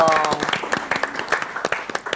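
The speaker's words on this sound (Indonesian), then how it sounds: "Oh, tepuk tangan dong." Applause from an audience at a traffic-safety event, scattered and uneven claps rising and falling at moderate volume, with a voice faintly heard over it.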